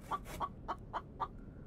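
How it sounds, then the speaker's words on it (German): Chicken clucking in the survival video game The Infected, five short evenly spaced clucks close by, fairly faint over a quiet background hum. "Das Huhn hört sich ja gerade so an."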